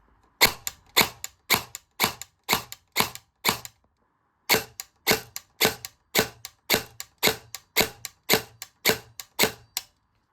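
Gunshots fired through an aluminum mock suppressor, about twenty sharp, loud cracks at a quick even rhythm. They come in two runs with a short pause between them, and no one speaks.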